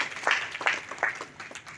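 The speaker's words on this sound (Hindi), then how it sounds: "एक बार जोरदार तालियों से स्वागत करते" Applause from an audience at a public development event in Majhwara, a few rhythmic rounds of clapping with distinct sharp bursts about every third of a second, moderately loud and fading toward the end.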